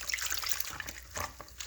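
Fresh water runs from a tap for rinsing aquarium filter hoses for a Hydor 450 filter, a close, steady splashing trickle with small bright spatters and no talk.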